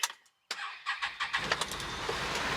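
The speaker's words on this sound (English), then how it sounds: "Getting ready to move this tractor again." An old tractor engine cranks and catches, sputtering into a rough, steady running rumble that holds close and loud after a brief silence.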